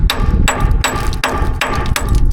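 A rust hammer strikes an old Peterbilt truck frame outdoors: six loud, sharp metallic blows in a steady rhythm about every 0.4 seconds, close and ringing.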